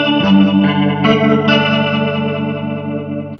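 Electric guitar chords run through a BOSS RT-2 rotary speaker pedal with the mode switch on position 2, a loud, sustained, swirling chorus-like tone with a few restrikes and a wide, open sound.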